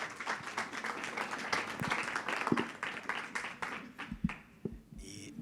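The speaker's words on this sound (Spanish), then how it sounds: "Un aplauso para recibir al doctor Sigifredo Esquivel Marín." An audience at an academic education event claps to welcome a speaker, steady moderate applause that tapers off into scattered claps, with a brief voice at the end.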